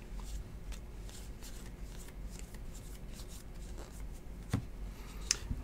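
2018 Classics football trading cards are handled and sorted into piles, giving soft continuous shuffling and rustling with a few sharper taps and flicks. Close and quiet, with no talk.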